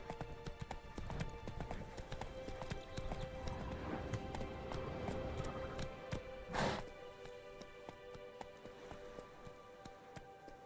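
Roach, a horse in The Witcher 3: Wild Hunt, gallops with steady, rapid hoof clip-clops through the whole stretch, joined by one louder burst near the middle and a brief whinny-like cry, all over faint ambient game sound.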